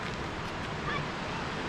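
Surf at Muzhappilangad beach in Kannur washes in a steady, broadband rush with wind buffeting the microphone, no clear individual wave breaks standing out.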